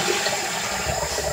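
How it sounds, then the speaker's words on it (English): A toilet with a metal supply line flushes: a brief, close rush of swirling water filling the whole short moment, with no voices. "Flush the toilet, make sure it's working."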